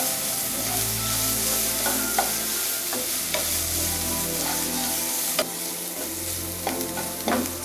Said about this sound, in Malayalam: ഒരു ഇടത്തരം സവാള ചോപ്പ് ചെയ്താണ് ഇട്ട് കൊടുക്കുന്നത്